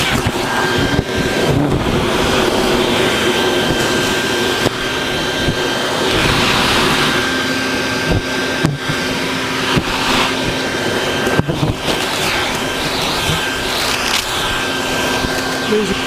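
A vacuum cleaner sucks up a giant hornet nest, a steady loud roaring drone with a faint whine, holding through the whole stretch with brief rustling bumps as the nozzle moves.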